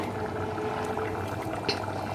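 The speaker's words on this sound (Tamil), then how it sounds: "தண்ணி கொதிக்கிற தண்ணி ஊற்றினாலும் உடனே கொதிச்சிருச்சு" Hot boiling water is poured into a pot of vegetable masala biryani on the stove, a steady bubbling, sloshing pour with liquid splashes, close and moderately loud, no talking.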